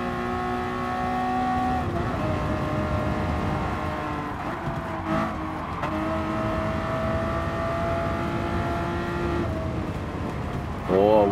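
A 1966 Ford Mark 1 race car in a racing video game holds a steady engine drone with layered tones, dipping briefly around the middle and rising again, under a game-racing soundscape with a sharp rev near the end.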